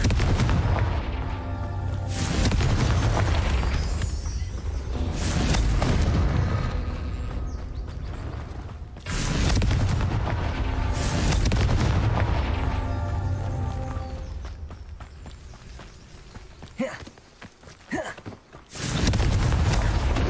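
Fire spell explosions and blasts from the wizarding video game Hogwarts Legacy, loud booming bursts repeated over a dense, continuous roar, with a few sharp hits near the end.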